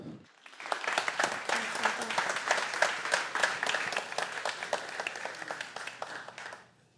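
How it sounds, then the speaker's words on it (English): Audience at an academic lecture applauding a speaker as she is introduced; steady, moderately close clapping from a crowd that starts quickly, holds for several seconds, then fades out. "Big round of applause, please, for Rose."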